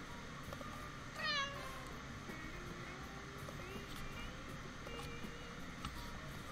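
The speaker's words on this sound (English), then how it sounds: "Oh, now the cat decided she wants to come over." A single short cat meow rises clearly above a quiet, faintly humming room, followed by soft background noise.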